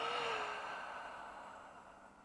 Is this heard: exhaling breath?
yes